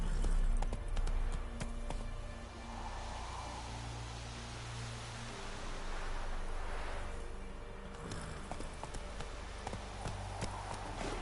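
Roach the horse galloping in The Witcher 3, with a steady stream of hoofbeats over a wide wash of wind and ambient noise, fairly close and continuous.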